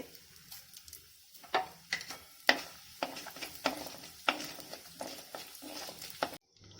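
Fenugreek seeds crackle and spit in hot oil, a steady run of irregular pops over a soft sizzle, close and fairly quiet, ending abruptly.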